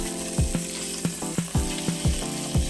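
Carrots and onions sear in a hot frying pan for a Bolognese lasagna, giving a steady close sizzle broken by several sharp knocks and scrapes as the vegetables are stirred and flipped.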